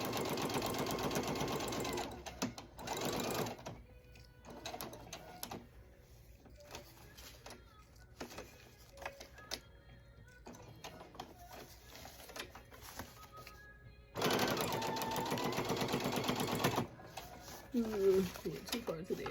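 A sewing machine stitches elastic onto a cloth diaper in long stitches, with two sustained whirring runs at the start and near the end, short intermittent bursts between them, and a person talking during the quieter stretches.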